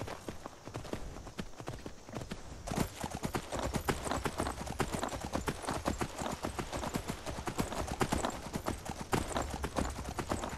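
Steady rapid clip-clop of horse hooves at a trot in the video game Skyrim, close and continuous, picking up pace after a few seconds.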